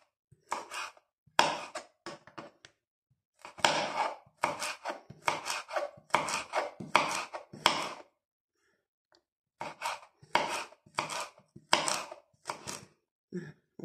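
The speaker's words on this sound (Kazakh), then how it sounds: "Қызылшаны соломка қылып тураймыз." A knife chops beetroot into thin strips on a board for pickled cabbage, giving quick bursts of close, crisp cuts in rhythmic runs with short pauses between.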